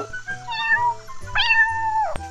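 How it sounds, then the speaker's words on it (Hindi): A cat meows twice in close succession, clear and near, the second call rising then sliding down, with no talking. "पर वो तो बिल्ली की बोली है"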